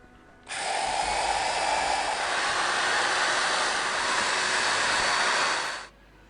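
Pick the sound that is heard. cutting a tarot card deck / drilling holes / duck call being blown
drilling holes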